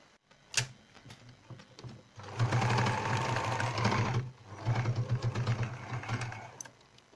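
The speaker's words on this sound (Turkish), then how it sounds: "Şimdi bu kısmı diktik." A sewing machine stitches a fabric headband in two close, loud bursts of rapid, even mechanical chatter, each lasting about two seconds, after a single sharp click and a quiet pause.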